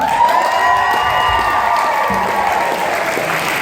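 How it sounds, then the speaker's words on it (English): A dense, loud round of applause from a large wedding crowd after a speech, steady and sustained, with a few cheers mixed in. "Let's give our maid of honor, Beth Van, one more nice round of applause for those great"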